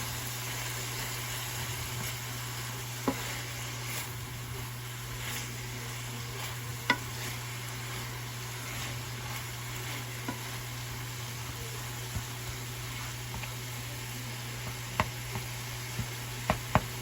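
Pork sizzles steadily in a skillet, a constant hiss of frying with occasional faint ticks and taps of stirring, no voices.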